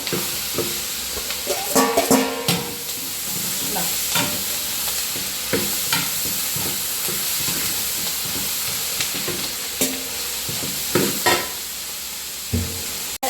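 Onions sizzle and fry in a hot pan for a chilli cauliflower dish, with a steady crackling hiss broken by repeated scraping stirs and clinks of a spatula, close and busy with no talking.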